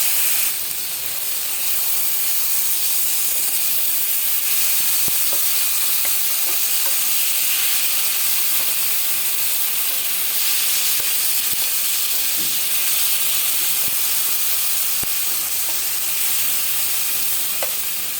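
Boiled tomato goes into a pan of spices frying with cumin, dried red chilli and asafoetida, giving a loud, continuous close-up sizzle and hiss with occasional stirring clicks throughout, no talking.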